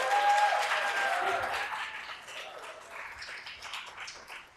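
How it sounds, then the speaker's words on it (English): An audience at a national convening of cities and counties gives a round of applause, loud at first, then thinning and fading toward the end. "I want everyone to give a round of applause to Koo for all she does"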